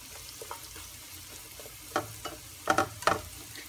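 Mushrooms cook in butter in a pan with a soft, steady sizzle, broken by a few faint scrapes and stirring clicks, quiet and close.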